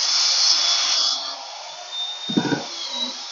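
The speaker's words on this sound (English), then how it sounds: "So I'm going to mix this up with my drill a little bit." A handheld power drill whirs steadily while stirring sugar water in a container for feeding bees in winter, a high buzzing whine that drops in pitch partway through, then a brief scraping knock near the end.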